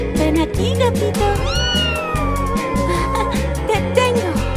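A cartoon cat in an animated children's song about a fire truck gives a long, rising then falling meow over bouncy music, loud and upfront, with singing voices around it.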